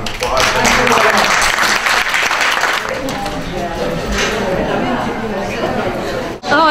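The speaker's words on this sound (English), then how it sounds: "We can give Dr. Seebacher a round of applause." An audience applauds at length after a medical presentation on non-operative knee arthritis treatment, dense and loud clapping with crowd chatter mixed in, fading slightly toward the end.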